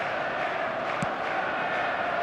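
Stadium crowd in an eFootball video game, a steady dense roar of many distant voices, loud and continuous, with a faint brief whistle-like tone partway through.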